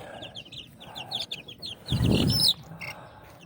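Pet chicks peep and chirp in quick, high bursts close by while being moved into a new cage, with a short rustling handling noise partway through.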